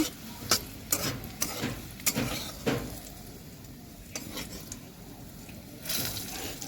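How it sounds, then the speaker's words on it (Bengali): Bitter gourd frying in oil in a pan gives a soft, steady sizzle, broken by several sharp stirring clicks and scrapes against the pan that come in a loose rhythm. "তো দেখো আমার উচ্ছে প্রায় ভাজা হয়ে এসেছে"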